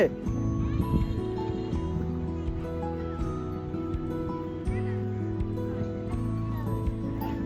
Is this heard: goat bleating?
yes